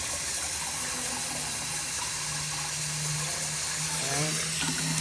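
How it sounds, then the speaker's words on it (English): Tap water runs steadily into a sink as rice is rinsed, giving a continuous gushing hiss with faint clinks. A voice speaks briefly, low under the flow. "Rinse the rice until the water's no longer this white, dusty, milky color."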